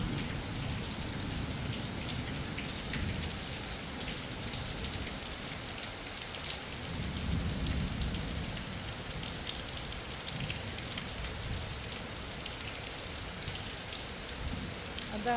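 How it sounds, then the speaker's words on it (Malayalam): Heavy rain pours down during a thunderstorm in Kerala, a dense, even hiss of drops on surfaces that continues steadily throughout at a moderate, fairly distant level. "നല്ല ഇടിമഴ വന്നുണ്ട്."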